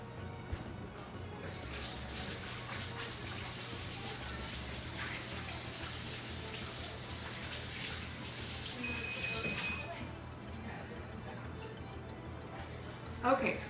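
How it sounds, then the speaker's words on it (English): Hands are washed under a running kitchen tap, water gushing and splashing steadily for about eight seconds before shutting off, with quieter room sounds before and after. "Let me go wash my hands real quick."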